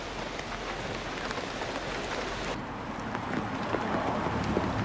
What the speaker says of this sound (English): On the third day, it's raining.